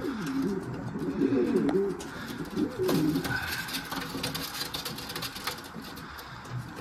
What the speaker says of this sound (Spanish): como está muy fuerte la hembra de celo, le pica un poquillo porque le zurea